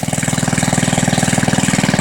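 A 1948 Briggs and Stratton WMB single-cylinder engine runs steadily close by, its rapid, even putt-putt firing pulses repeating without a break for the whole stretch.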